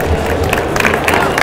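Audience applause at the close of an Internet of Things talk at Campus Party, a steady wash of clapping and crowd noise with some murmuring and cheering, sustained throughout.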